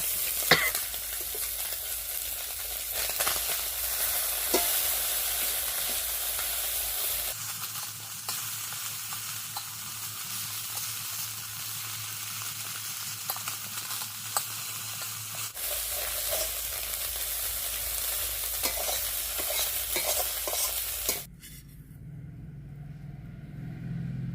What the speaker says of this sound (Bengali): ভাজা করে রাখছি